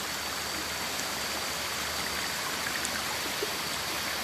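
A waterfall and stream pour steadily, a constant broad rushing hiss of water with no break or change in level, heard alone without voices.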